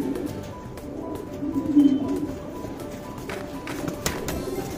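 Pigeons at a racing-pigeon tournament coo close and steady, a low warbling murmur running throughout with a slightly louder swell partway through, occasional faint taps in the background.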